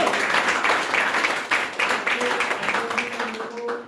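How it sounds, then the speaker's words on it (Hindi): A short burst of crowd applause, many hands clapping steadily for a few seconds before it thins out, with a voice speaking faintly underneath near the end. "एक बार जोरदार ताली चाहूंगा"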